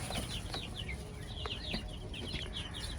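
Baby chicks in a backyard coop peep in rapid, high, overlapping chirps, steady and fairly close over a low background rumble, with no talking.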